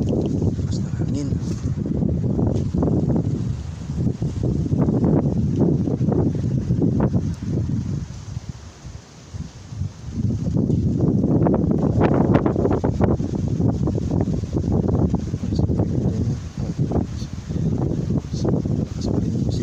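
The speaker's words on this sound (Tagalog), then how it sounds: "Lakas ng hangin." Strong outdoor wind gusting across a microphone in an open field of grass and flowers, a loud rumbling roar that swells and dips, easing briefly before surging back.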